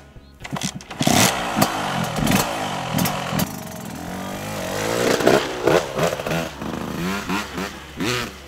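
A new 125cc motorcycle engine starts and revs loudly up close, its steady idle broken by repeated throttle blips and rising surges over the whole stretch, with no talking.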